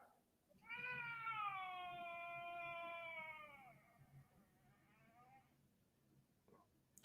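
A cat meows in a long, drawn-out complaining wail lasting several seconds, fairly faint in the background, trailing off into a softer second cry at the end.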